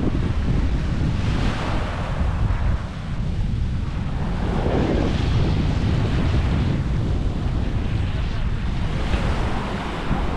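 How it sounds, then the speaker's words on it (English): Strong wind buffets the microphone at Shelly Beach, with coconut trees nearby, while ocean waves roll and crash continuously beneath it, a loud, dense roar with rushing surges throughout. "The place is so windy."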